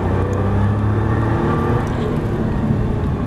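A Nissan GT-R on the Dreux circuit is pushed at full throttle, a steady loud engine drone with dense low rumble held across the whole stretch, no speech.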